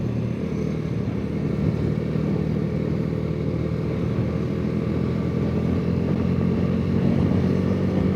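A motorcycle rides along in third gear on a scenic road, its engine giving a steady, continuous mid-pitched drone with rushing wind, no voices over it.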